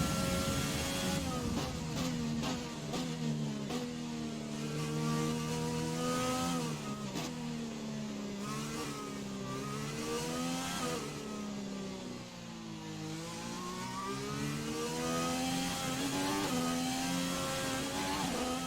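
F1 car engine in the racing game F1 2020, a continuous high revving whine rising and falling through gear shifts and corners, steady and alone without talk.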